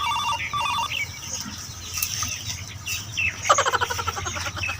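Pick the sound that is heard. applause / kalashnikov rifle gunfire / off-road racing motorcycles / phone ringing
phone ringing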